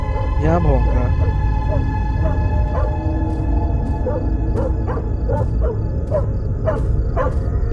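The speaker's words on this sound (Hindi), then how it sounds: "यहाँ भौंक रहा है।" A dog barks repeatedly in short bursts in a horror video game, over a steady droning background hum, with sharp yips spaced irregularly.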